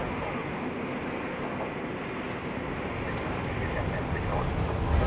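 An airliner taxis slowly at Copenhagen Kastrup Airport, heard from inside as a steady broadband engine and rolling rumble that swells slightly toward the end, with no voices during the clip.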